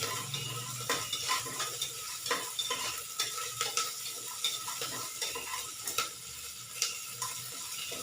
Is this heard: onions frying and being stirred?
yes